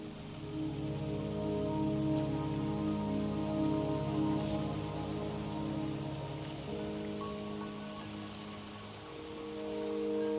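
Rain patters steadily in the Wuthering Waves video game, a soft continuous wash under a sustained musical drone, with no voices.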